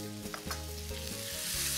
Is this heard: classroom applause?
no